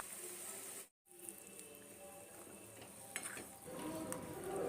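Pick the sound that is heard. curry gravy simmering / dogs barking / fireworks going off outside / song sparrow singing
curry gravy simmering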